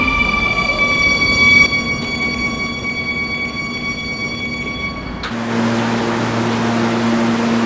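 Inside an R220 subway train running on the 11 line, a steady loud rumble of wheels and car body with a sustained electric motor whine whose pitch and character shift partway through.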